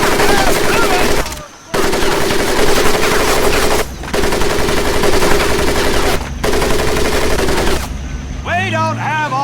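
Loud, sustained machine gun fire rattles over a Marines' training mud pit in Medal of Honor: Pacific Assault, in long continuous bursts broken by three brief pauses before a drill instructor starts shouting at the end.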